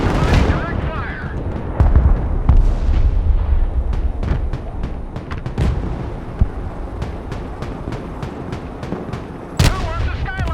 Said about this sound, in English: Mobile artillery standing by. Providing direct fire.